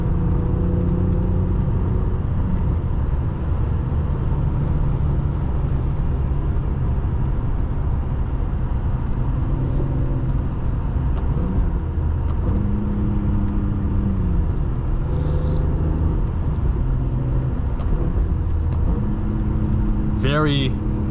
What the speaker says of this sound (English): gotta remind yourself to blip it for a shorter period of time to get that nice rev match without over revving it